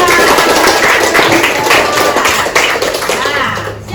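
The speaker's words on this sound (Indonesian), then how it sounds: "Ya, tepuk tangan." Schoolchildren in a fourth-grade classroom clap their hands in a loud, dense burst of applause. A teacher's voice and some chatter can be heard over it.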